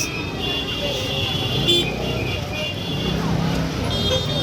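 Dense traffic noise in a crowded market street, with vehicle engines, a brief horn toot and constant roadway clamor close by, while people talk over it.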